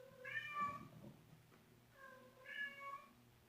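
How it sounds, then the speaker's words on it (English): A house cat meows twice in the background, each a drawn-out, faint, plaintive call separated by a short pause, heard alone in a quiet room. "that's my stupid sister's cat in the background"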